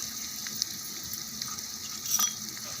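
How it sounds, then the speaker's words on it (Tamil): Onion and curry leaves deep-frying in hot oil give a soft, steady sizzle with faint crackles and a brief stir near the end, quiet and close with no talk. "நல்லா இதையும் டீப் ஃப்ரை நல்லா பண்ணிக்கலாம்"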